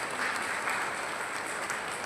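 An audience at a convention hall inauguration claps, a dense, even wash of applause that fills the short moment without pause.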